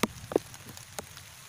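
Raindrops fall during a shrimp-bait tilapia fishing outing, heard as sparse, light taps and patters over a quiet background, with a few sharper drops standing out.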